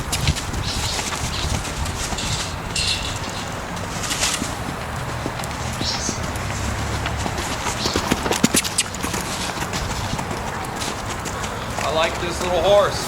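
Hooves of a 14-year-old rescue horse clip-clopping steadily on its first ride in Colorado, under a man's close, continuous talk, with birds faintly in the background.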